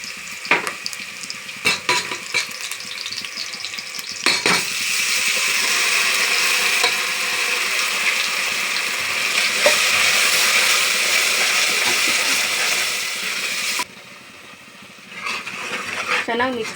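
Onions fry in a pan as ground masala goes in, with a steady loud sizzle after some stirring and clinking, a brief dip near the end, and then the frying resumes.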